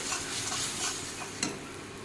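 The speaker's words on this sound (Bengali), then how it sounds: "এখন ভালো করে ভেজে নেব মশলাটাকে" Ginger, green chili, turmeric and cumin powder fry in oil in a pan, a continuous close hissing sizzle broken by brief scraping stirs.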